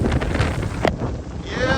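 Hurricane Francine storm wind buffets the microphone at night, loud gusty rushing with a sharp burst partway through, and a few voice fragments in the mix.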